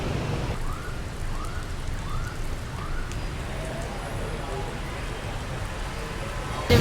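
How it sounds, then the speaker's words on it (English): Heavy rain pours down steadily in Ho Chi Minh City, Vietnam, a dense hiss of water on hard surfaces, with a few faint chirps in the background. "The rain is coming down heavy"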